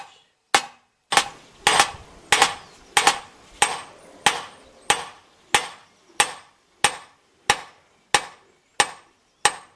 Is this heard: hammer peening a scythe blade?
yes